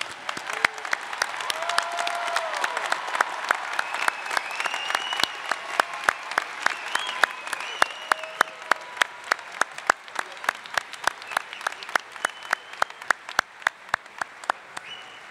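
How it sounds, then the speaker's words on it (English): Commencement audience at a business school graduation ceremony applauds the graduates with sustained, dense clapping throughout, loud and steady with sharp individual claps standing out near the end, with no talking. "How about a round of applause for our graduates?"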